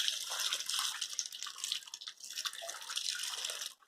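Steady rain in Mesa, Arizona, heard as a continuous hiss of splashing and dripping water, loud and close, with brief dips in intensity and no voices.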